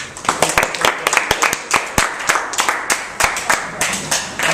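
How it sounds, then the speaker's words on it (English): A group claps together for debate participants, with sharp irregular hand claps spread across several seconds at close range, moderately loud, without talking over them. "So, round of applause for all."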